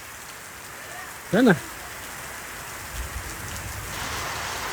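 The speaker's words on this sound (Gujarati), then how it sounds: "વરસાદ આવી ગયો છે." Steady rain falls on an open outdoor area where boys play a match, a soft continuous hiss throughout, with a brief nearby voice speaking partway through.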